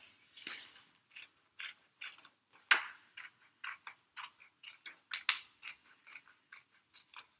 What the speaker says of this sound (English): just making little cuts like that. And I've got my scissors open nearly all the way.